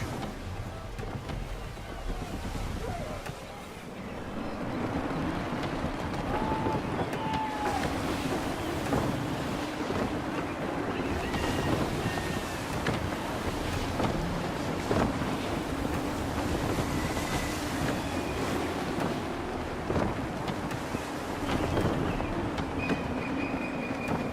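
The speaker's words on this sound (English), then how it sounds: "Gusty winds can be difficult to manage." Sailing ship pushing through waves in gusty wind in Assassin's Creed III, a constant rushing roar of wind and water with creaks and buffets throughout, no voices.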